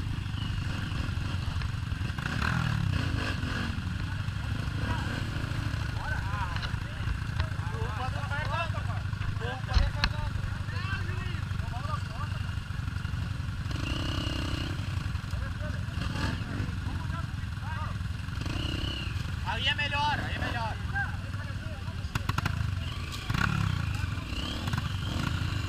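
A dirt bike engine drones steadily on a trail ride, low and muffled, with rough clatter over the terrain and someone talking over it throughout.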